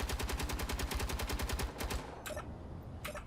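Rapid interior turret gunfire in Space Engineers, a steady fast burst of shots for about two seconds, then a few isolated later shots, loud and close with no talk.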